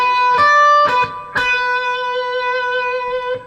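Distorted electric guitar plays a blues rock lick in B, with three sharp picked attacks including a staccato note, then one held note ringing out, played solo and up close.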